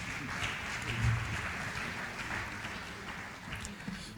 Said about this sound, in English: I thought we'll get a round of applause for.